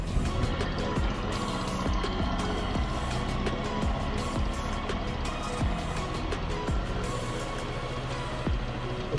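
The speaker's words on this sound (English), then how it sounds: "Medyo mataas yung RPM nat, yung idle RPM natin." Easyride 150N motorcycle engine idling high at around 2,000 RPM, a loud, steady, close putter with rapid regular firing pulses throughout and no talk.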